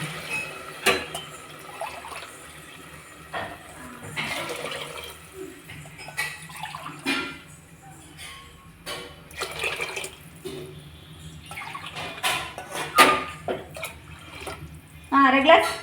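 Water poured from a glass into a pot of basmati rice for pulao, in short splashing pours with gaps between them, under someone talking.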